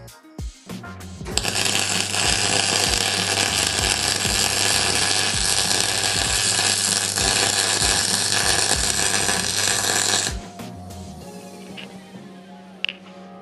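Welding a seam, a steady loud crackling buzz that starts abruptly, holds for about nine seconds, and cuts off, with faint clicks before and after.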